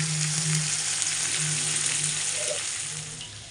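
Bitter gourd slices fry in a pan of hot oil, giving a steady, close sizzle that runs the whole time with no voices over it.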